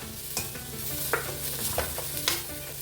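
Ginger-garlic paste sizzles in a pan for chicken curry, with a steady fry and several sharp scrapes as a spoon stirs it, close and without talk.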